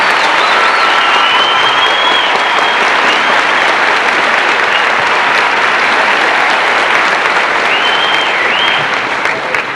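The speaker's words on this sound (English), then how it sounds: "I think we clap because they do deserve a nice clap in the class." A large audience at a 1989 high school graduation applauds the graduating students, a loud, sustained roar of clapping from many people that holds steady for about ten seconds, with faint cheers and crowd murmur mixed in.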